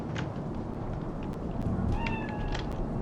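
A cat meows in Cyberpunk 2077 video game, a couple of clear mid-pitched calls over a constant loud background hum of city ambience.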